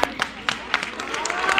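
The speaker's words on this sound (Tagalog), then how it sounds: "ako ang papalakpak para sa'yo" A few scattered hand claps ring out at a Unified Hong Kong business training session, spaced irregularly and fairly close, with faint talk in the background.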